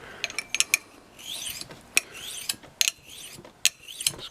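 Small sharpening stone swiped across a tree branch lopper blade, a run of sharp metallic scrapes and clicks in an uneven rhythm, close and fairly loud.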